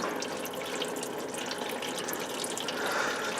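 Drained fluid trickles and drips steadily into a pan under a loosened bolt, a continuous splashy patter heard up close and moderately loud with no voices.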